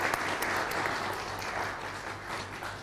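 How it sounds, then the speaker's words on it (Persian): Audience applause for a contestant at a televised talent show, dense sustained clapping that fades slightly toward the end, with no one speaking over it. "بله تشویق بفرمایید"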